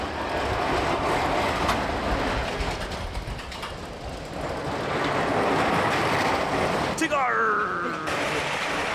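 Loud, continuous rumble and rattle of a roller coaster train running at Indiana Beach, close by, with clacking mechanisms and a brief high squeal near the end, voices mixed in.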